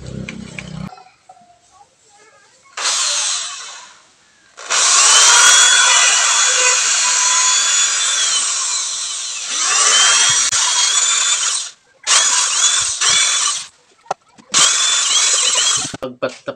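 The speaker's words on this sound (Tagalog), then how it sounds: "So siyempre sasalang natin sa drill." Power drill boring holes into a plastic alcohol tank, heard in several loud, sustained bursts of whirring with brief pauses between them, close to the microphone.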